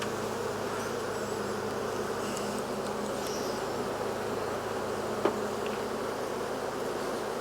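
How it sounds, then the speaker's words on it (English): A steady, dense drone of many honey bees buzzing close by around a hive, continuous and even throughout with no voices. "Gosh, that's a lot of bees."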